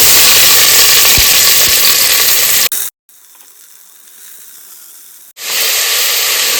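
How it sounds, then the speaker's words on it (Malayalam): Sliced onions hitting hot oil in a pressure cooker for chicken biryani: a loud, close hiss and sizzle that cuts out abruptly to near silence midway, then returns just as strongly. "ഇനി നമുക്ക് ഇതിലേക്ക് 3 വലിയ സവാള കട്ട് ചെയ്ത് വെച്ചത് ഇടാം."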